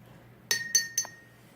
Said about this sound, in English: you should be able to rinse out your paintbrush